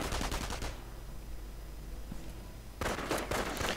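MG42 machine gun fire in a World War II real-time strategy game battle, rapid ripping bursts at the start and again near the end, with a quieter stretch of distant battle ambience between.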